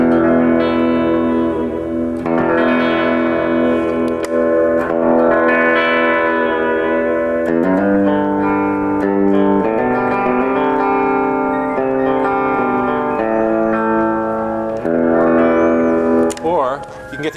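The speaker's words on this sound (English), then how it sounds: "The Gretsch sound is this really beautiful, clear, bell-like tone at its best." A Gretsch electric guitar rings out with a clear, bell-like tone, playing sustained chords and notes washed in reverb and echo, loud and continuous for about seventeen seconds.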